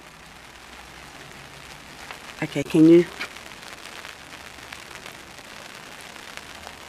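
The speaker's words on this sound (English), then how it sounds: "Now, we'll go on walking in the rain." Rain falls outdoors as a steady, soft hiss during a walk, with a short spoken exchange close by partway through.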